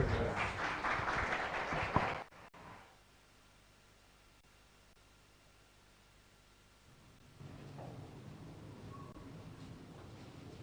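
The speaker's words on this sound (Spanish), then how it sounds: "Entonces, con fuertes aplausos al Coro Esperanza." Audience applause for a choir at a Quechua-language Bible seminar, a loud burst of clapping from a crowd lasting about two seconds that then drops to quiet room tone, with a lighter murmur of activity returning near the end.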